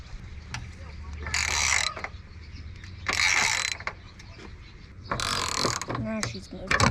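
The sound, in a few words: ratchet removing nut and bolt on Ford Fusion coolant tank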